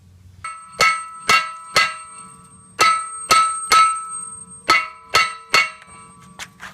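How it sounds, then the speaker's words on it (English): Sharp metallic clangs of a hammer pounding a rusted front brake part on a 1999 Jeep Wrangler ring out one after another, about a dozen blows in uneven bursts, each with a bright lingering ring. "we're going to get a hammer and we're going to pound on it to see if we can get it off"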